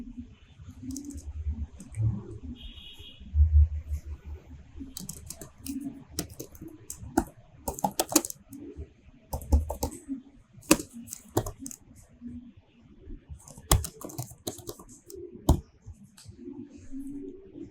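Fingers type a short product description for a polo T-shirt on a computer keyboard, close, crisp keystrokes coming in irregular bursts and clusters separated by brief pauses.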